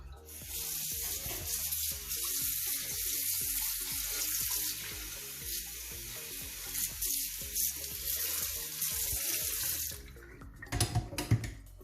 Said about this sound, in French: De passer partout avec le jet d'eau pour enlever la pulpe.